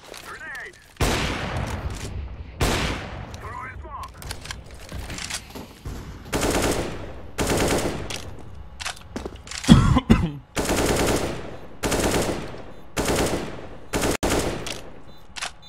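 Video game AK rifle fire cracks out in repeated loud bursts and single shots, spaced irregularly across the stretch with short quiet gaps between, sharp and close.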